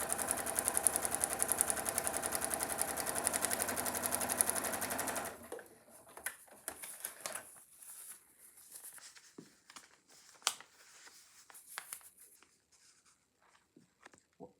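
A sewing machine stitches paper-pieced quilt fabric in a fast, even run of mechanical clatter for about five seconds, then stops, leaving faint handling rustles and small taps.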